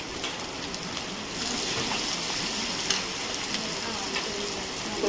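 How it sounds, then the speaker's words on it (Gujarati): Onions sauté in a pan with asafoetida, curry leaves and ginger-chilli paste, a soft, continuous sizzle and occasional light clicks from stirring, close up. "પછી આપણે એને થોડી વાર ડુંગળી સાંતળવા દઈશું"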